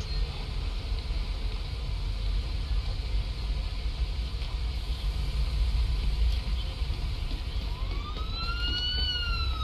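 A siren in the Police Simulator: Patrol Officers game rises near the end, arriving over a steady rumbling traffic bed; for most of the clip it stays faint before sweeping wails become clear.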